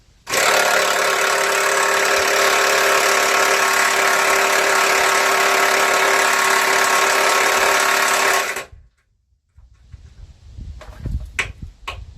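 A power tool removes stuck hitch bolts from a Cummins-swapped Jeep frame, running loud and steady for about eight seconds before cutting off, followed by clunks and rattling of metal parts.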